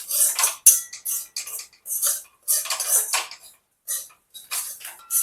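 A spatula scrapes and clinks against a pan in short bursts with brief gaps as chopped raisins, cashews and almonds are stirred into a wheat flour and jaggery modak filling.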